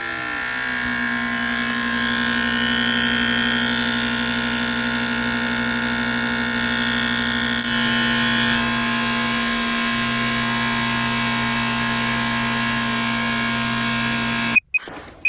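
Fuel injectors firing on a test rig with fuel pressure at 45 psi, a steady, loud mechanical whine and buzz that holds for about fourteen seconds before cutting off with a few brief clatters.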